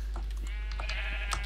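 Sheep bleating in the Minecraft video game: a few short, nasal in-game bleats over a steady low background hum, fairly close and clear, with no talking.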